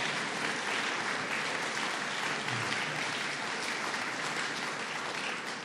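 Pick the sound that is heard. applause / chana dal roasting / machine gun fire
applause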